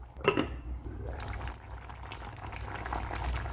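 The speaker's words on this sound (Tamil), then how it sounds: "பூண்டு, இன்னும் 1 நிமிஷம் கொதிக்க விட்டுட்டு இறக்கிடலாம்." Okra sambar with tamarind and garlic simmers in a pot, giving a close, continuous bubbling and gurgling boil with light sputters throughout.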